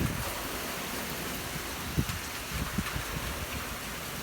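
Steady rain falls in New Orleans East during a tornado watch, a soft, even wash of noise with a few faint patters, no talking.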